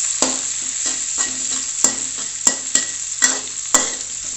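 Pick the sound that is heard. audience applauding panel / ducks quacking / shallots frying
shallots frying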